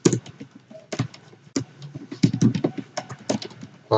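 Rapid close clacking of a computer keyboard as Python code is typed, irregular bursts of keystrokes with short gaps, no speech.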